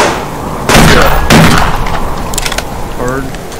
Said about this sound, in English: Double barrel.